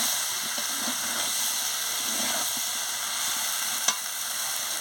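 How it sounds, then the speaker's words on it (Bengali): Soybean chunks, potato and papaya are sautéed in a pan, giving a steady, moderate sizzle with soft stirring scrapes and one sharp clink near the end, heard without speech. "সোয়াবিন আলু পেঁপে সবের সঙ্গে দিয়ে ভালো করে"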